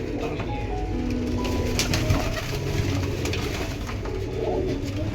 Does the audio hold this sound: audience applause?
no